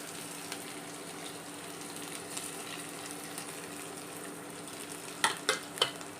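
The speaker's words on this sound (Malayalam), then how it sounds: "തേങ്ങ പെരിഞ്ചീരകം വെളുത്തുള്ളി ഇഞ്ചി ഇതെല്ലാം കൂടി നമുക്കൊന്ന് വറുത്തെടുക്കാം" Grated coconut, fennel, garlic and ginger roast in coconut oil, giving a low, even sizzle throughout, with three quick metallic clinks near the end as the mix is stirred.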